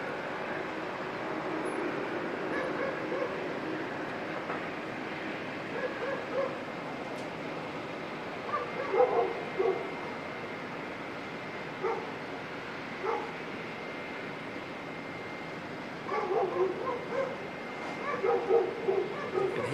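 Dogs barking at Auckland Airport, short yips and barks at a distance over a steady ambient airport hum, coming in scattered bursts toward the middle and end.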